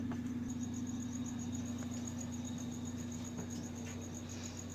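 A feeder cricket offered to a tarantula chirps in a steady, rapid pulsing trill, fairly close against a constant low hum.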